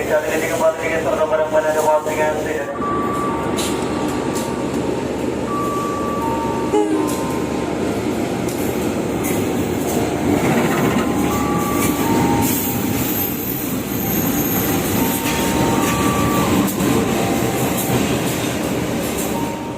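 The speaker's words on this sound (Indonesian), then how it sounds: "Jalur 5 ini ada lokomotif langsung nih." A single locomotive rumbles along the track close by at an Indonesian railway station, with steady heavy noise, brief horn-like tones and metallic wheel squeals rising and falling throughout.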